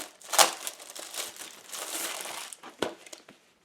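Sheets of Stampin' Up designer series paper in honey gold crinkle and rustle as they are handled, a few sharp crisp crackles among softer shuffling, close and fairly quiet.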